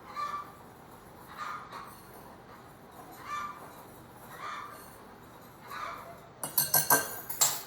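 A utensil mixes baking powder, baking soda, nutmeg, ginger and flour in a bowl for carrot cake, making soft periodic scrapes, then a burst of sharper clinks against the bowl at the end.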